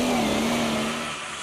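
A prostock pulling tractor engine revs hard at a Eurocup tractor pulling event in Brande, Denmark, a loud sustained drone with a steady tone that eases slightly in level near the end.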